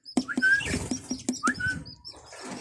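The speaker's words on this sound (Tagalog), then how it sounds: "Dito sa kabila parakeets din mga kaibon." Parakeets, normal and opaline birds in a breeding cage, giving quick high chirps and squeaky calls close by, with rustling and pattering movement between calls.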